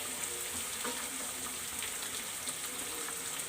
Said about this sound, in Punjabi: ਹੁਣ ਆਪਾਂ ਪਿਆਜ਼ ਟਮਾਟਰ ਪਾ ਦਿੰਨੇ ਆ